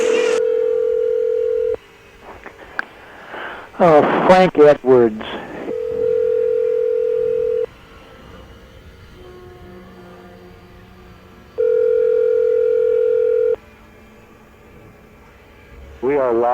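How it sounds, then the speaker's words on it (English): A telephone line's steady tones come through in long, loud, even bursts on a live radio call-in show, broken by short gaps and a voice briefly speaking in between. "The phone is still ringing now."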